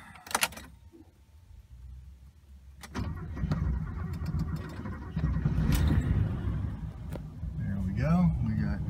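A 1967 Mercedes-Benz 600 engine cranks and catches at about three seconds, then settles into a steady, close idle that runs to the end, with a voice speaking briefly over it near the finish.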